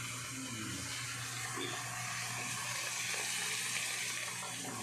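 Steady broadband rush of water running from a tap into a sink during dishwashing at home, a continuous hiss with a low hum beneath and no clear speech.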